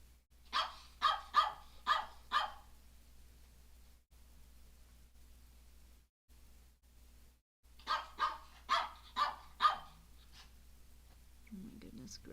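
A little dog barks in two bursts of four or five quick, sharp yaps, separated by near-silence with gated background hiss, heard indoors.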